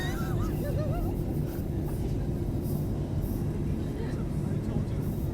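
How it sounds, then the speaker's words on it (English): A small island-hopper airplane flying over Kauai, Hawaii, fills the cabin with a loud, steady engine drone and broadband rumble that holds for the whole stretch. "this is by far the shortest plane ride I've ever had because it's just an island hopper"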